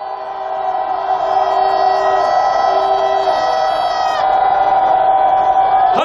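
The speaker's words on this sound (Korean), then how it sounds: "우리 촛불 국민들의 함성을 질러보겠습니다" Candlelight marchers arriving at the Japanese embassy raise a long, sustained collective shout, many voices holding a loud drawn-out cry together for several seconds before it breaks off.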